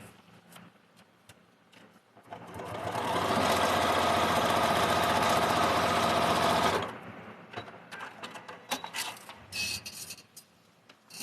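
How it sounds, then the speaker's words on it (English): A sewing machine stitches folded fabric for a quilt block, running steadily and loud for about four seconds in the middle, with quieter handling noises before and after. "bring it over to the machine and stitch it."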